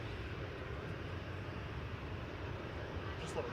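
An Icelandair Boeing 737 MAX 9 lands from Reykjavik, heard as a steady, broad engine roar at moderate distance that rumbles on without a break.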